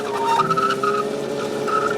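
Sound effect from a toy racing motorcycle, a thin, whiny engine tone with squealing pitch sweeps over a steady background, fairly close and continuous for a couple of seconds.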